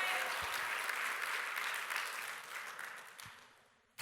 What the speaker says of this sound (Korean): 오랜만에 우리 글로리 찬양당 박수 해주세요